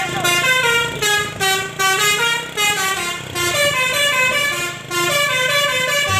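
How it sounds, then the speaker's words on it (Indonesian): Toy bus telolet horn playing a rapid melodic honking tune, loud and close, in repeated bursts with brief gaps. "Yuhu, keluarlah bus telolet."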